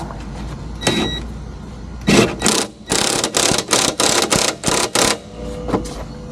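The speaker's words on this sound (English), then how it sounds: "Torque it with the torque wrench." A torque wrench tightens the rear shock absorber bolt on a car to 129 foot-pounds. It makes a loud, close run of evenly spaced ratcheting bursts, a dozen or so in quick rhythm, after a few scattered knocks.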